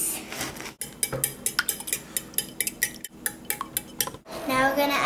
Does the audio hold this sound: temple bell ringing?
no